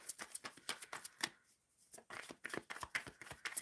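Tarot cards are shuffled by hand in quick riffling bursts, close and crisp, with a short pause partway through before the rapid flicking resumes.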